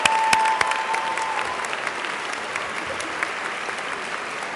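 Large convocation crowd applauds new social work graduates, a broad continuous roar of clapping opening with a few sharp nearby claps and a brief tone.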